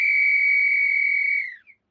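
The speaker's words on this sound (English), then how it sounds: "there was the faint, clear sound of a whistle being blown not far away" A whistle gives one clear, steady high-pitched blast lasting over a second, then fades with a brief final chirp; nothing else is heard.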